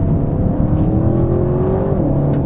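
A 2021 Audi RS7's engine with sport exhaust drones steadily and loudly, its pitch climbing gradually as it accelerates, with a throaty exhaust note.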